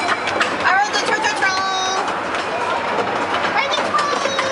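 Small ride-on train rolling along rails with a steady clickety-clack and rumble close by, while people talk and laugh over it throughout.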